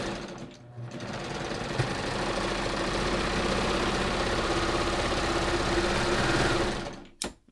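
A Baby Lock Ovation serger sews woven fabric with its differential feed left unset, a steady rapid mechanical whir running loud and continuous for several seconds before stopping abruptly near the end.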